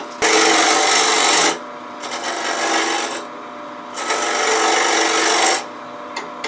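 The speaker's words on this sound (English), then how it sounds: "I'm using a small bowl gouge." Small bowl gouge cutting the edge of a spinning wooden faceplate on a lathe, three sustained rasping scrapes separated by short quieter gaps, close and loud with no talking.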